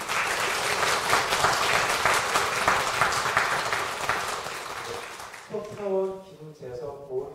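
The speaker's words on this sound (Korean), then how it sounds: "큰 박수로 환영드립니다." Audience applause welcoming honored guests at a Won Buddhist dharma assembly, dense sustained clapping for about five seconds before fading out as a speaker's voice takes over.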